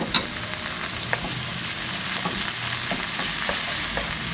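Chopped tomato goes into a pan of frying bean ingredients with garlic paste, setting off a loud, dense sizzle with a few scattered stirring clicks, close and continuous with no voices.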